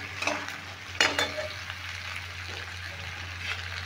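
Chopped tomato frying in a pan for a vegetarian kohlrabi curry, a constant soft sizzle with a couple of sharp spatula scrapes early on, close-miked and free of talk.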